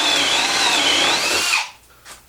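A Milwaukee 2603 M18 Fuel drill driver drills loudly and steadily with a high whine, then winds down and stops partway through.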